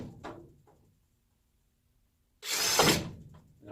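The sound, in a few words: power drill drilling holes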